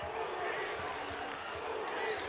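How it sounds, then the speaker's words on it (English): A Venezuelan crowd at a Dominican Republic versus Venezuela baseball game fills the stadium with a steady, broad roar of cheering and noise, with a commentator talking over it throughout. "The Venezuelan crowd into it here."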